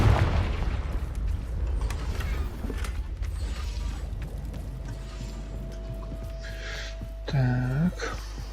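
A Confringo blasting spell bursts in Hogwarts Legacy with a loud opening boom, then a low rumbling fades under mechanical whirring and a rising sweep near the end.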